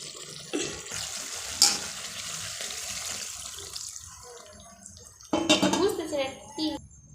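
Water pours from a tap or jug into a cooking pot of chicken korma with yogurt, splashing and running steadily at close range, then a sharper clattering pour near the end.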